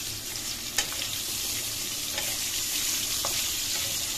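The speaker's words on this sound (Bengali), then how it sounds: "কাঁকরোল ভাজি" Teasel gourd (kakrol) frying in a pan, a steady close sizzle with a few sharp clicks from stirring, no voices.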